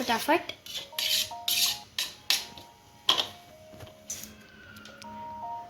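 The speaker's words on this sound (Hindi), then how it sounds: "दीदी अब कैप्सिकम काटते हुए" Knife chopping capsicum (bell pepper) in a home kitchen while cooking pasta, a series of sharp, irregular cuts and knocks on a board mixed with clattering utensils and a faint electronic beeping tone, close and moderately loud.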